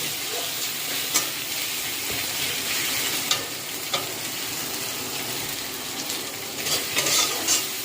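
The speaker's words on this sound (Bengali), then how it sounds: "হাফ টিস্পুন জিরে গুঁড়ো, দিয়ে আমি এটা নাড়তে থাকবো। মশলাটা 1 মিনিট মতো একটু কষা কষা মতো করে নেব।" Cumin powder and ground coriander stirred and frying in hot oil for a home-style chicken ghugni, a steady sizzle with occasional spoon scrapes and clinks against the pan, close and continuous with no voices.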